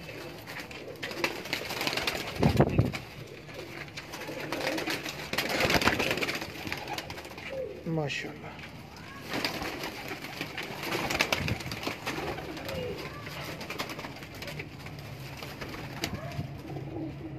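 Soft, low coos of Indian pigeons at a breeder's loft in Lahore repeat among rustling and flapping, with someone speaking briefly over the birds.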